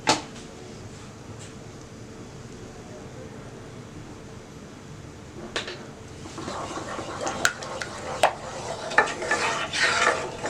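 White sauce pasta is stirred in a pan: soft scraping and clinks of a utensil against the pan, growing busier and louder in the second half, with faint background sounds.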